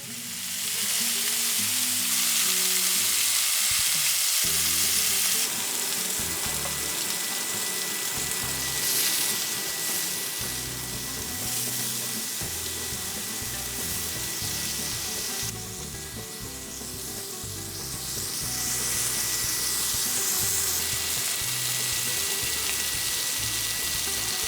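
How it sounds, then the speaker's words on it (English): Mushrooms brushed with oil grill on a hot surface, producing a continuous loud sizzle and hiss that swells and eases over the length, with no one talking. "We're just going to grill our mushrooms."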